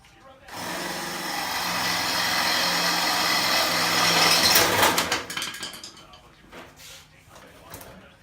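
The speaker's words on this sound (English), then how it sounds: "Just had to drill out 4 welds" Power drill boring out welds on a mini swamp buggy build, a loud continuous whine for about four seconds that cuts off sharply, followed by scattered clanks and handling noises as the bit winds down.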